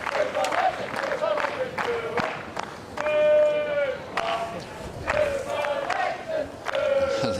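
Crowd at a London 2011 tennis match between Hewitt and Nishikori cheering and applauding, a steady roar of clapping with shouts rising over it, with a commentator speaking over the noise.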